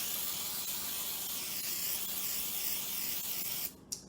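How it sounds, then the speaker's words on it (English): Cooking oil spritzed from a spray bottle over zucchini fries bound for the air fryer, a steady, close hiss lasting several seconds before cutting off with a brief final puff. "And then we'll spritz the other one."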